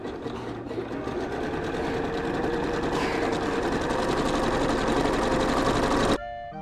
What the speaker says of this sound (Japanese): 見返しの裾にジグザグミシンをかけよ